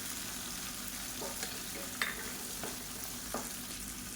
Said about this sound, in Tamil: இந்த எண்ணெயிலே நல்லா வதக்கி விட்டுக்கலாம்